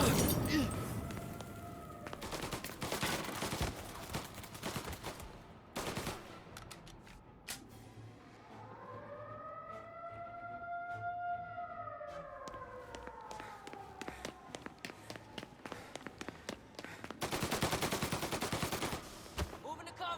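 Gunfire in a Mafia remake video game: bursts of shots and automatic fire crackle at the start and end, with sirens wailing in the middle and voices calling out between.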